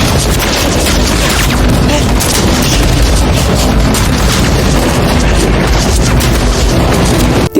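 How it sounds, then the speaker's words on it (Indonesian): Dense, loud gunfire and booming blasts rage without a break in a war scene from the film Escape (2024), about soldiers fleeing North Korea. "tiba-tiba pasukan Yungsang teralihkan dengan bunyi tembakan dari arah berlawanan"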